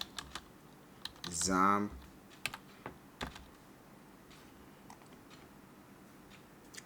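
Scattered keystrokes on a computer keyboard, quiet and intermittent, with a short spoken word partway through.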